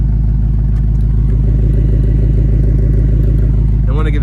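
A 2024 Ford Mustang GT with a 5.0 V8 and stock exhaust rumbles loudly and steadily at close range, with a deep pulsing burble, and a rising rev at the end.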